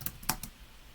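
A few quick, close keystrokes on a computer keyboard while drafting in CAD software: three or four crisp clicks in a short burst, then quiet.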